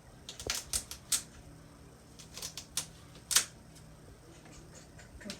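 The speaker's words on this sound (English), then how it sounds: "Take your knife right here, cut the stalks off." Celery stalks are cut with a knife, giving a scattering of faint, sharp crisp clicks and snaps at irregular intervals against quiet background hum.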